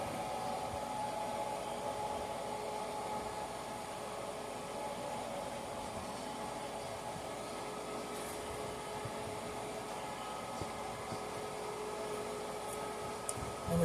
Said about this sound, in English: My fucking little room air conditioner, it's so cute, it just has water in it and just blows it. It's making a funny noise